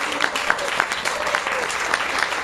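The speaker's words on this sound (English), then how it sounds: "Just give them a huge round of applause." Audience applause for the Big 5 standing up at a business event, a dense steady wash of clapping with a few sharper claps poking through, moderately loud and continuous throughout.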